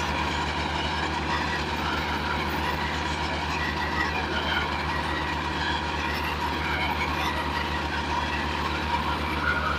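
A small tractor runs steadily during soil preparation for planting strawberries, a constant low engine drone with a rattling, clattering texture, fairly close and unchanging, no talk.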